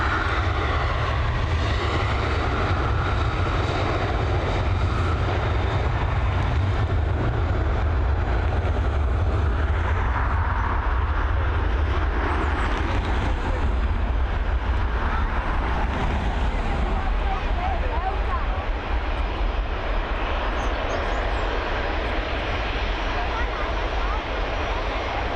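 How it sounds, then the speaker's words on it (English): A Ryanair Boeing 737 bound for London Gatwick departs Dublin Airport with a loud, sustained jet roar that rumbles steadily for the whole stretch, heard from a distance with some wind buffeting on the microphone. "Here we go, FR122 heading over to London Gatwick,"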